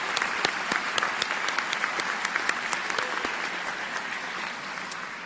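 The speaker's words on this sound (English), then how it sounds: "real clap for Mama." A commencement audience gives dense, sustained applause for a graduate's mother on her 95th birthday, many hands clapping at a steady level throughout with no talk over it.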